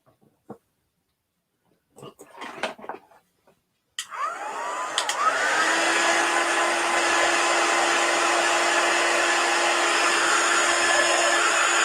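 A hair dryer switches on after a few soft handling noises and blows steadily, close and constant, while drying chalk paste on a sign.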